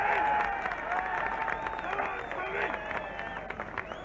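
An enthusiastic crowd at the Cheltenham National Hunt Festival racecourse applauds and cheers around the winner's circle in a dense, continuous wash of clapping, with a commentator talking over it.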